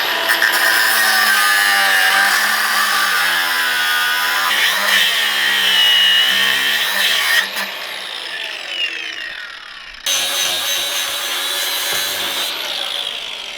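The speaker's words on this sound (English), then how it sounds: "You are an artist with the grinder." An angle grinder cutting into the steel car body of a Cortina during a turbo build, a loud continuous screeching whine that wavers in pitch, dips briefly, then resumes, close and with no talking.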